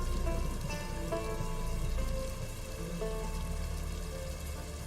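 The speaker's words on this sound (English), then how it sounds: "At least some of us want to stay out of this rain." Steady rain patters over a dense, continuous hiss, with faint tonal background sounds beneath.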